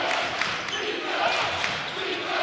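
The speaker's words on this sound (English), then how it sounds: "Crowd with the defense chant." Basketball crowd at a Washington vs. Wheeling Central boys' game with a continuous, dense roar of many voices, its chanting pulses blurred in the gym's echo, steady and fairly loud throughout.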